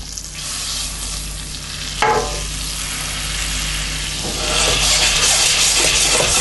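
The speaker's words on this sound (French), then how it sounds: "On va le laisser cuire ensemble un tout petit peu, que le caramel se détache de la poêle." Salted butter and sugar cook into caramel in a pan for a tarte Tatin, making a loud, steady sizzling hiss that swells in the second half, with a brief stirring scrape near the two-second mark.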